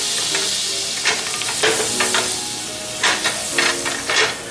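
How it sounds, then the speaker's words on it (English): Hot grease sizzles steadily in a very hot frying pan being readied for fried cabbage with sausage, a dense continuous crackle broken by several sharper spattering bursts, close and loud with no voices. "You need that grease in the pan in order to, you know, fry the cabbage in"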